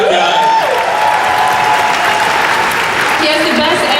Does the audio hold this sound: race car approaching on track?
no